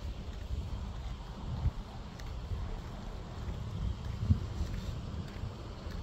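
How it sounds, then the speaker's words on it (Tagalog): Outdoor breeze during an exercise walk along a quiet road, a soft steady wind rush with occasional light gusts and faint thumps, fairly low in level and with no talking. "Ang sarap ng simoy ng hangin."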